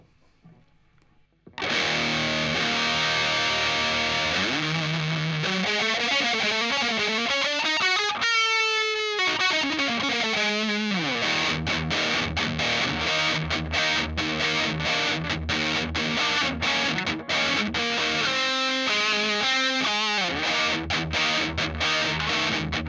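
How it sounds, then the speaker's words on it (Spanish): Ibanez RG550 Genesis electric guitar played through heavy distortion on the bridge pickup, loud sustained chords and riffs with bends and fast runs, continuous and up close with no talking. "Vamos a meterle un poco de ruido con distorsión."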